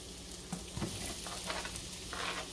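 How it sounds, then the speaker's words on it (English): Red and yellow onions and peppers sautéing in a pan for garlic pepper shrimp, a dense continuous sizzle with a few stirring scrapes, close and steady with no voices. "We're going to saute that until it becomes translucent."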